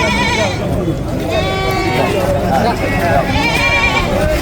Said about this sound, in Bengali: আর এই হাটে ছাগলের পাশাপাশি কিন্তু আজকে ভেড়াও উঠেছে